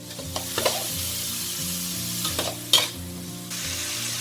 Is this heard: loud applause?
no